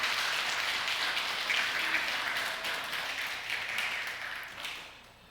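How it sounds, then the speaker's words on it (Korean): A church congregation applauds in a sustained, dense wash of clapping that slowly fades out over several seconds, honoring mothers during a sermon. "이 시간 그런 엄마들에게 다시 한번 경의의 박수를 한번 올려드립시다."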